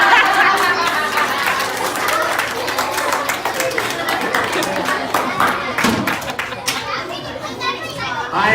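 A crowd at a live snake show claps and cheers, with lively children's voices and chatter mixed throughout the continuous applause.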